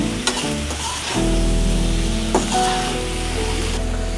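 Taro stolons and prawns fry in a pan with a steady, close sizzle, a clatter of stirring at the start and a spoon scrape midway, with no talking.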